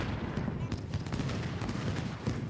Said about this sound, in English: He's going to get one more volley off on Buell's skirmishers, and it could be a finishing volley